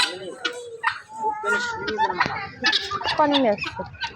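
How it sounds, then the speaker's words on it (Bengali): Several chickens of different kinds clucking and calling at a house, busy overlapping clucks close by, with a voice speaking over them. "আমাদের বাসায় সব ধরনের মুরগি আছে"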